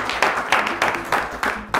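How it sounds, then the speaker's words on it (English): A small audience claps in rhythmic, evenly spaced bursts for a young spelling champion on a children's TV quiz, about six sharp clap groups over roughly two seconds. "A round of applause for John"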